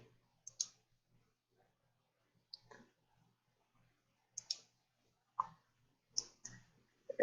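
Computer mouse clicks in the Nemexia browser game interface: several short, sharp clicks spaced irregularly over a quiet background, close and fairly crisp, with no talking.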